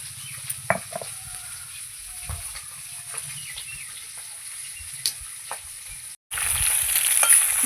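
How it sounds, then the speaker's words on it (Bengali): Snakehead fish head frying in a pan for a home-cooked winter lunch, a steady broadband sizzle with occasional spatters and scrapes, growing louder near the end after a brief gap, with no talking. "মাছের মাথা আমি ভালো করে ভেজে নিয়েছি"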